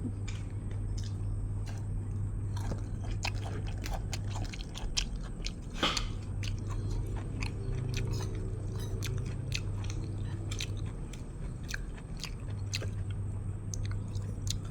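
Close crunchy chewing and biting while eating fish with jaew dip, repeated wet bites at an irregular rhythm with steady low background hum and no talk.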